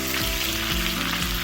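Steady sizzling of chicken frying skin-side in a hot pan with butter, a close, continuous crackle and hiss with no talking.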